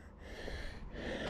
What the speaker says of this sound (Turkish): Soluk soluğa kaldık.